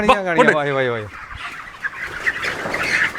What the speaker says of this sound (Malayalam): ഇപ്പൊ ഇരുപത്തി അയ്യായിരം കോഴിയുണ്ട്